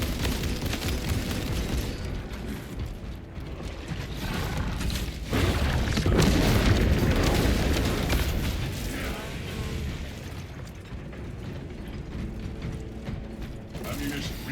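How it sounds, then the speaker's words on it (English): Crack grenade explosions in the video game Space Marine 2, heard as dull booms folded into a continuous wash of battle noise and mechanical clatter, rising louder near the middle, with a voice talking over it. "So I basically just have unlimited crack grenades right now because I have secure stockpile."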